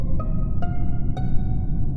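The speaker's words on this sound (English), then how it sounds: "the only sound that I used was the dead body reported sound" The Among Us video game's dead-body-reported sound effect: three sharp, bright tonal stabs spaced about half a second apart, each ringing briefly with layered harmonics over a low rumbling bed.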